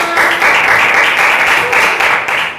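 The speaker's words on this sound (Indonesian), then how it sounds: "Tepuk tangan" Students in a classroom give a short, loud burst of clapping for a group that just presented its math answer, dense and close for a couple of seconds.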